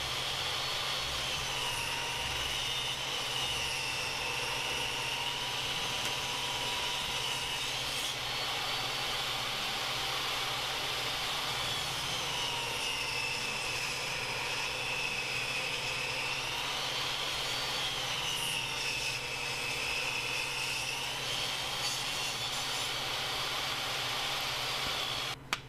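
Steady, continuous power-saw whine cutting wide wood pieces in half for a miter frame, loud and unbroken with no pauses or talk.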